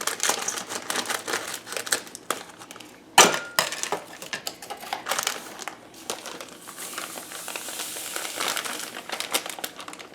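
A packet of gluten-free yellow cake mix crinkles and rustles up close as it is opened. There is a sharp snip or tear partway through, then continued plastic crumpling.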